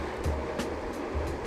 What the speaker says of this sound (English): Goodbye, waves.